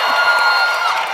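Live podcast audience greeting political contributor Tim Miller with a dense, loud wash of applause and crowd noise, continuous and close throughout its brief span.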